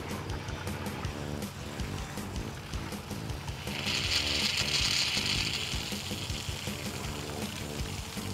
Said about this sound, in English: the city water's turned on now, so we'll start with the hot water side.